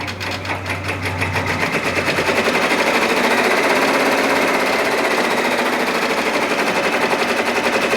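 A Baby Lock Venture 10-needle embroidery machine starts up and stitches, building into a loud, rapid, steady mechanical hammering rhythm that runs close and alone for several seconds.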